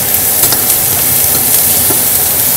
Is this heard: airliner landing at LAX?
no